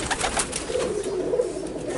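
Kentong pigeon cooing, a low soft cooing that rolls on steadily through the clip at close range with no talk over it.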